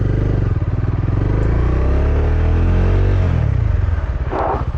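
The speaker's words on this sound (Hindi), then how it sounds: "अब बाइक जो है नॉन ABS बन चुकी है। अब देखो बाइक कैसे स्केट करेगी।" Motorcycle braking hard with ABS switched off, a loud close engine drone whose pitch slides down as the bike slows, with a brief scrape near the end.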